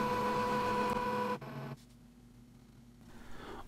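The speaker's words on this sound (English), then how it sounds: "So when you start a printer, it's going to slowly move to the right." A blocked Epson printer whirs at startup as its printhead carriage moves, a steady mechanical hum that cuts off abruptly, then a quieter motor drone that slowly builds again.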